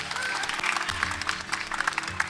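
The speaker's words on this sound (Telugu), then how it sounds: "మనం అందరం అతన్ని చప్పట్లతో స్వాగతిద్దాం" A theatre audience bursts into applause to welcome a magician onto the stage, dense rapid clapping from many hands filling the room at a steady loud level.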